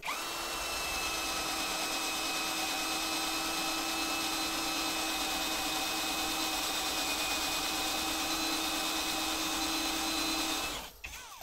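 A Parkside cordless drill drilling metal, running continuously at a steady low speed with a whining motor tone, stopping abruptly near the end.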